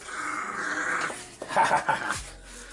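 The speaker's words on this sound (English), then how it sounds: "My dog, who is 7 pounds, is dragging a pool noodle around the living room." A seven-pound dog growling while tugging a pool noodle around a living room, low rumbling growls that swell in short bursts, close and fairly loud.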